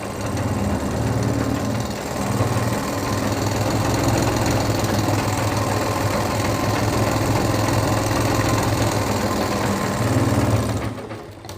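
A sewing machine stitches a straight seam through fabric, giving a steady, loud mechanical whir that runs without a break for the whole stretch, with no talking.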